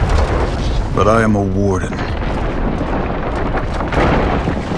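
Heavy bomb blasts rumble through a medieval siege battle in For Honor, a dense low roar that persists throughout while someone speaks briefly over it.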